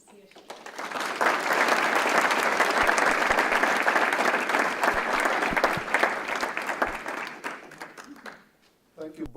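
A university lecture audience breaks into warm applause welcoming a guest speaker, a dense, steady clapping that swells quickly, holds for several seconds, then fades out to near silence.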